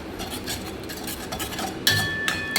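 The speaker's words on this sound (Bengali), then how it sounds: "হলুদ গুঁড়োটাকে ভালোভাবে মাখিয়ে একটু কষিয়ে নেব" A spoon stirs turmeric powder into paneer and capsicum in a pan, giving soft repeated scraping and light clinking strokes, with a sharper metallic tap near the end.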